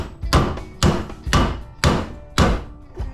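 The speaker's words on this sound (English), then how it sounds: "I generally just take the hammer and" Five heavy hammer blows bang scrap metal to knock copper out of aluminum windings, each a sharp close impact ringing briefly, spaced about half a second apart.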